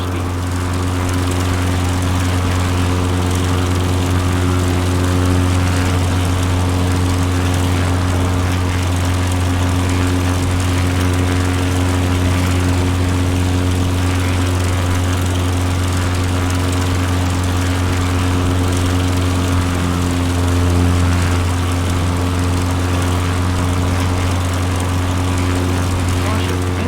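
Aviat Husky propeller engine in Microsoft Flight Simulator running at overspeed, a loud, steady droning hum with strong low harmonics holding constant throughout, no talk over it.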